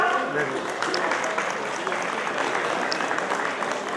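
A crowd claps steadily throughout at an eye camp, dense and sustained, with a voice speaking briefly near the start.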